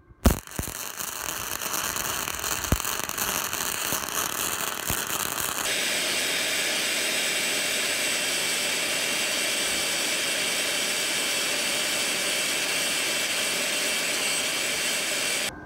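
A Titanium Flux 125 flux-core welder laying a bead on a leaking exhaust pipe with a very short stick-out, producing a continuous loud crackling buzz after a few sharp pops at the start, close and steady, with no talk.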